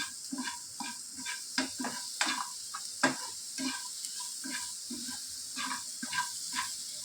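Quick homemade pickle with salt being stirred in a pan: rhythmic, close scraping strokes repeat over a faint sizzle, with no talking.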